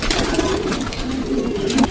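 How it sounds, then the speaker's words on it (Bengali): Napta pigeons coo inside a loft in low, rolling murmurs that overlap in a steady, moderately close chorus with no voices over them. "এই যে একটা নাপ্তা কবুতর"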